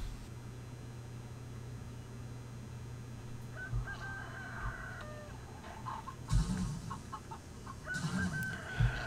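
Video game chicken in CHKN arena challenge mode lets out squawking attack calls, a few clucking bursts over a steady low hum, with sharper cries near the end.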